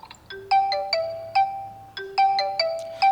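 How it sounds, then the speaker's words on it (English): Get moving alarm tone on a Vivo Y16 phone: a bright, bouncy electronic melody of quick plucked notes in two repeating phrases, loud and close with nothing else audible. "I finally set to get moving."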